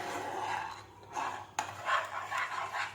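Spoon scraping and rubbing through a thickening milk mixture in a pan over high flame while making kalakand, with repeated rasping strokes and one sharp clink near the middle.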